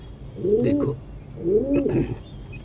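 Pigeons in a loft master cage give two drawn-out, rolling coos about a second apart, moderately close and steady against a low background hum.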